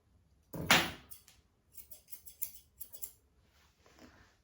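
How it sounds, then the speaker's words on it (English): Fine scissors snip around a pet's ear while trimming, giving a series of crisp, close cuts: one strong snip, then a run of lighter, evenly spaced clicks, with no talking. "I can scissor it with my nice fine scissors"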